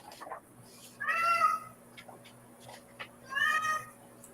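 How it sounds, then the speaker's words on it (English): A cat meows twice, clear harmonic cries about two seconds apart, heard fairly close over a quiet room with a faint steady hum. "You have kitty cats."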